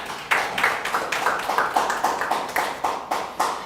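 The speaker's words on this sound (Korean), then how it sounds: "하나님께 영광의 박수를." A church congregation at a Thanksgiving Sunday service claps in a brisk, steady rhythm, each clap a crisp, evenly spaced burst that fills the hall.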